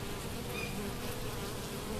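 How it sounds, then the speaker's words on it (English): Honeybees buzz around a hive in Yulee, Florida, a soft continuous drone of many wings close by, with a few individual bees passing nearer, fairly quiet and with no talk. "I see pollen, a lot of bees."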